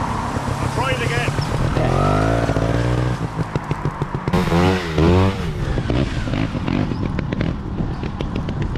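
Trials motorcycle engine revving and popping in bursts as it climbs over rough ground, loud and close, mixed with people talking throughout.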